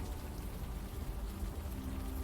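Steady rain falls in the video game Unavowed, an even, close hiss of patter that runs unbroken throughout.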